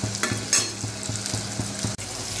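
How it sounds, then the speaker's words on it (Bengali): Elephant foot yam vadas fry in oil until reddish, a close, continuous hiss and sizzle with regular bubbling bursts repeating every fraction of a second, and no talking. "বড়াগুলো একটু লাল লাল করে ভাজতে হবে, ধৈর্য ধরে একটু লাল লাল করে এই বড়াগুলো ভাজতে হবে।"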